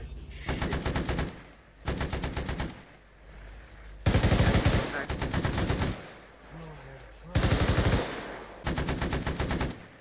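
Machine gun fire in the military shooter Arma 3 comes in long, loud automatic bursts of rapid shots. Several sustained bursts are broken by short pauses, with a faint voice audible in one gap.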